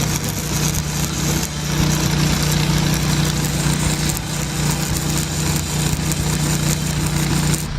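An engine-drive welder generator runs at a steady idle close by, a loud constant mechanical drone with an even hum and no talk over it.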